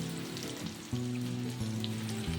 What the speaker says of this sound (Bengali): এখন ওই তেলের মধ্যে দিয়ে দিলাম কুচিয়ে নেওয়া পেঁয়াজটা তার মধ্যে দিয়ে দিচ্ছি রসুন কুচি